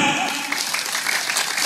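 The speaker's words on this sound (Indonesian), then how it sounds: "Tepuk tangan." An audience claps at an Islamic sermon in Cirebon, a brief, moderately loud burst of applause lasting under two seconds with a faint voice underneath.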